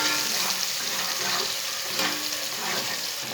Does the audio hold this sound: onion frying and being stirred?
yes